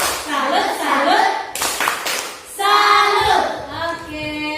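Schoolchildren in a classroom perform the rhythmic 'tepuk salut' clap chant, bursts of patterned hand claps mixed with chanted children's voices, close and lively, pausing briefly mid-way before resuming.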